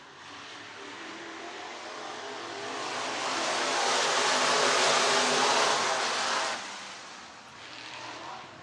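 IMCA Modified race cars on the dirt track at Kossuth County Speedway in Algona, Iowa, a broad engine roar that swells as the pack passes close, then fades and rises again, with no talk over it.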